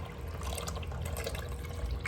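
Vegetable juice pours into a soup pot in a steady, close liquid stream with a continuous gurgling wash and no talk over it.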